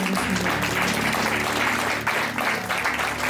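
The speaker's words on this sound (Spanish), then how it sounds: "Puedes darle un fuerte aplauso al Señor." Church congregation applauding loudly and continuously, a dense sustained wash of clapping filling the room with no break.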